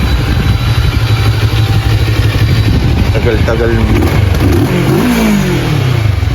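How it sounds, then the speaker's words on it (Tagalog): A vehicle engine idles with a steady low rumble, while a person speaks briefly over it near the end. "pinainit na natin yung makina."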